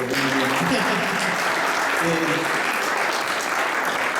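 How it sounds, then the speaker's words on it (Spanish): Church audience applause during a Sunday service, a full burst of clapping from the congregation with some voices mixed in at the start, loud and sustained to the end. "Denle un aplauso a Gabriel"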